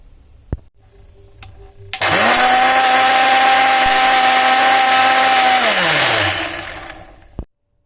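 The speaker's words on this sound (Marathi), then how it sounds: "आता आपण मिक्सरमध्ये टाकून दिलेले आहेत डाळिंबाच्या बिया" A mixer grinder blends pomegranate seeds for juice, its motor whining loudly and steadily for about four seconds before winding down, preceded and followed by small clicks and handling knocks.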